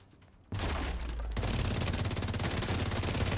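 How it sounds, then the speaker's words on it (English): A video game EMP grenade launches with a sudden loud burst, followed by a sustained roar of gunfire-like crackle and rumble that continues steadily to the end. "Launching grenade."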